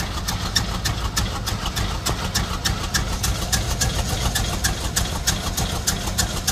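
A wrecked 1987 GMC 4x4 pickup engine idles roughly with a real misfire, a steady low rumble broken by uneven ticking pulses, heard up close with no talking.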